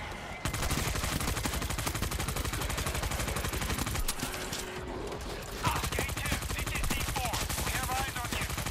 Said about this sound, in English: Deploy machine gun